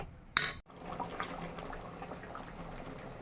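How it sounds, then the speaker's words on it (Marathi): Spinach bubbling in an uncovered pot of water while being cooked for palak paneer, heard as a steady low watery simmer, with a brief clatter near the start and a short sharp break just after. "भाजी उकडत आहे"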